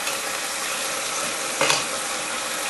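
Braciole simmering in a pot, a soft steady bubbling sizzle throughout, with a brief louder splash or stir near the end.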